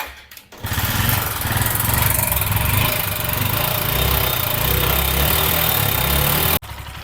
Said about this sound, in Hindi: बाइक को स्टार्ट किया और इंजन देख किस तरह साउंड आ रहा है।